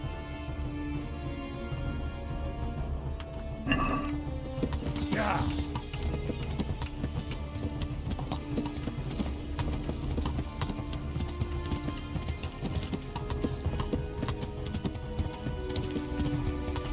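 Horse hooves gallop in the medieval game Kingdom Come: Deliverance during a race, a steady rapid clip-clop running throughout with a whinny and game music, while someone talks over it.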